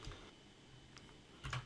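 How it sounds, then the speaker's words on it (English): Quiet typing on a computer keyboard while entering text in a Word document, soft scattered key clicks with a slightly louder burst near the end, no speech. "and then just start typing"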